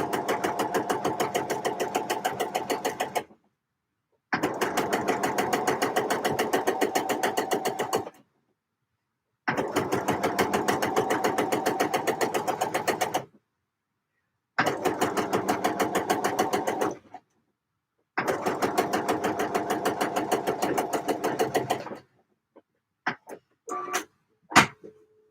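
A sewing machine top stitches a knit fabric pocket in five steady, rapid runs of needle chatter separated by brief pauses, ending with a few scattered clicks and handling noises.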